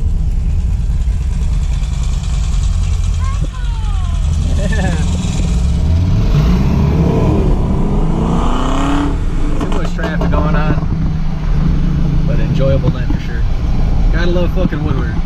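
A Chevrolet Camaro revs with a deep, rising engine roar that climbs and falls several times, under and between excited voices of people talking nearby.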